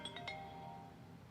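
A mobile phone's ringtone sounds indoors during a shoe unboxing, a few soft chiming tones at the start and then a lingering ring, faint and alone with no talk.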